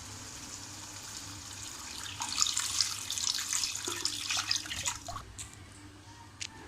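Stock and water pour into a cooking pot for fish pulao, a steady splashing stream that swells in the middle and then tapers off, with low background hum and no talk.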